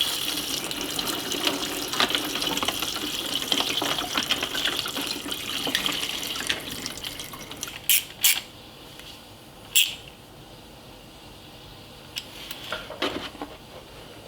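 Coolant drains from a Yamaha YZ250 motorcycle, a close liquid splashing and trickling stream that thins out, followed by a few sharp knocks and clatters.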